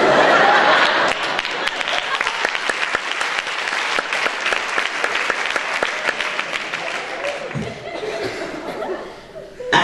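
Audience at a charity stand-up comedy show in 2013 applauding loudly with dense, sustained clapping mixed with some laughter, fading out near the end.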